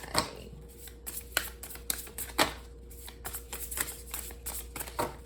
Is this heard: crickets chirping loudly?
no